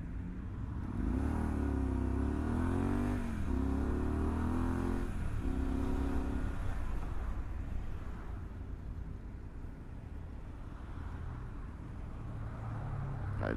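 A Ram pickup truck drives past, its engine swelling to a loud rumble at close range and then fading into steady road noise.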